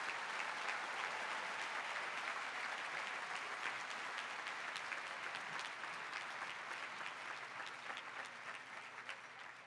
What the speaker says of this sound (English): we welcome your applause for the Master's Class of 2015.